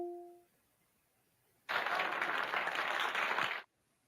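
Short burst of applause from a sound effect in an Alexa game, about two seconds of clapping that begins and stops abruptly against near silence.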